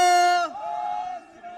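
At a Sikh political party launch, one strong voice holds a long jaikara war cry, then a crowd answers with a lower sustained collective shout that fades and carries on more faintly.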